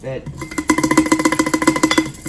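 Red pepper flakes shaken in a container while making dill pickles, a fast run of about a dozen even rattling shakes, close and fairly loud, after a brief spoken word.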